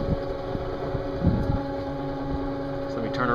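Model boat with a straight-shaft propeller motoring on a lagoon, a steady close motor drone with wind noise, continuous and fairly loud.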